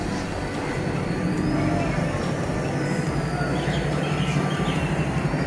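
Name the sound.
metro train arriving at New Garia station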